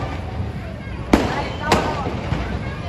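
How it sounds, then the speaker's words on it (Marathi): Two sharp Diwali firecracker bangs about half a second apart, echoing over a noisy outdoor background with a faint third pop later. "आपल्या स्टॉलचे फटाके कसे वाजतात तुम्हाला दाखवतो"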